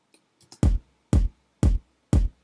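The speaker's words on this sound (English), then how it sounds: "one of the new sounds is a sample kick," Four evenly spaced, punchy kick drum hits with a gritty, slightly crunchy low thump, preceded by a few faint clicks.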